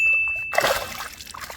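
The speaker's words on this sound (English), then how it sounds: "There he goes. Nice little splash." Small trout released from a hand slips into the water with one brief, close splash and a trickling spatter as it darts away.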